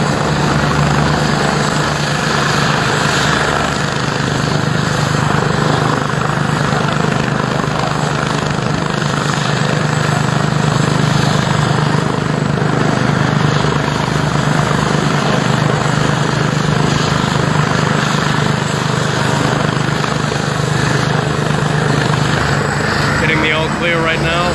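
A medical helicopter lifting off from a road crash scene on Route 240 in Fairhaven, its loud steady rotor thump and engine whine filling the whole stretch up close while voices talk underneath.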